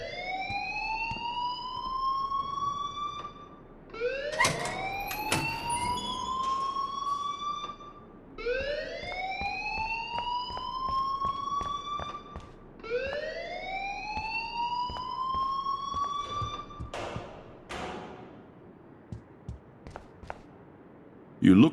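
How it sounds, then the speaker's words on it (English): A rising, siren-like electronic alarm wails in repeated sweeps, each climbing in pitch for about four seconds, loud and continuous, with a voice talking over it, from the video game Life is Strange. "please turn off that alarm since that's your job"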